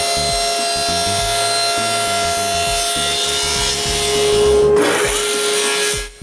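A walnut wall-mount piece being cut with a saw against a support, a steady rasping, rhythmic stroke pattern close by and fairly loud, easing off near the end.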